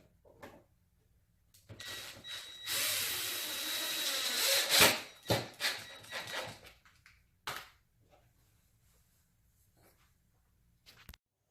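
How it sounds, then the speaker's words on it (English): A screw driven under pressure into a non-pre-drilled hole in a table, a grinding, creaking whir building over a few seconds with some scraping handling noise, then a couple of sharp knocks and near silence. "this hole is not pre-drilled, so you will need to apply some pressure when screwing your screw"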